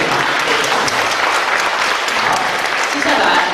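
Sustained audience applause at a Buddhist lecture thanks the volunteers, a dense, steady wash of many hands clapping at even loudness throughout.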